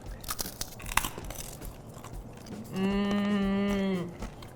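Someone bites into crunchy pickle-flavoured beef jerky, producing a few sharp, close crunches in quick succession, followed by a brief steady tonal hum.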